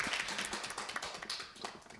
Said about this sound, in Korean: 우선 박수로 환영해 주시기 바랍니다